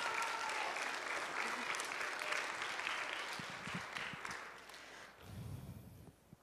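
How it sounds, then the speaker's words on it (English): Audience applause at a kindergarten graduation ceremony: a steady, dense clapping from a crowd that holds for several seconds, then thins and fades toward the end. "Can you give Mr. Rory a big round of applause?"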